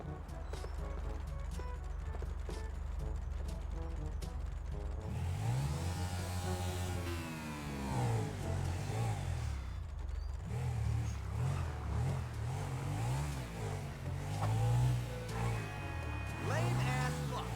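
A motorcycle engine in a roleplay video game revs up and down in repeated rising and falling surges over a low drone, with voices talking at times.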